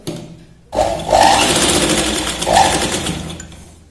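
A sewing machine runs a steady, loud stitching burst along a blouse shoulder seam, starting abruptly after a brief quiet and whirring continuously before stopping near the end.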